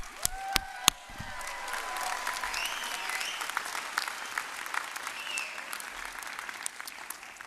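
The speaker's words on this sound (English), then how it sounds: "a big round of applause for the graduates" An audience applauds graduates at the Carnegie Institute's 77th graduation ceremony. The clapping is steady and sustained, with a few sharp claps near the start and faint whistles or cheers over it.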